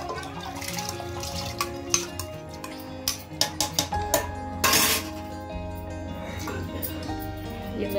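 Soaked rice and green moong dal tipped into a pressure cooker for khichdi, giving a run of wet clinks and a soft pouring rush against the metal pot, close and moderately loud, with a brief splashy burst midway.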